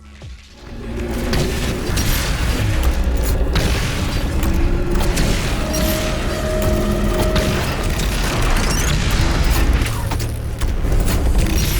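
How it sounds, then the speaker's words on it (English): Energy blade launched from the Destroyer Blade in DOOM Eternal, a dense, loud booming burst of game combat with mechanical clanks and whooshes sustained throughout, close and continuous without speech. "you launch an energy blade that will cleave through multiple enemies as it flies"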